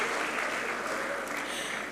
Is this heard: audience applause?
yes